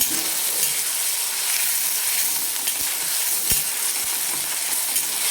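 Ground garlic paste sautés in hot oil in a village-style kitchen, making a loud, continuous sizzling hiss broken by a few soft knocks of a stirring spoon.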